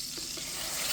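Pork chops frying in bacon grease in a pan on a farm kitchen stove give off a steady, loud sizzle with a broad hiss that holds without a break for the whole moment.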